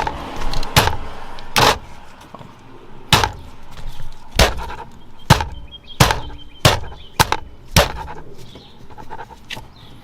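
Sharp, separate knocks from tapping an aftermarket steering wheel on an 02-07 Subaru WRX STI to loosen it from its hub, about ten hits at an uneven pace, close and fairly loud with quiet gaps between.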